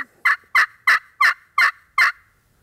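A hand-operated turkey call mimics a hen turkey, producing six evenly spaced, loud, close yelps in a steady rhythm with nothing else heard.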